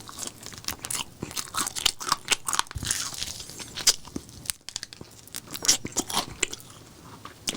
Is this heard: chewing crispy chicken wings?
yes